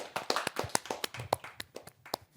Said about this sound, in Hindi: तो जोरदार तालियों से स्वागत है सानवी जैन का।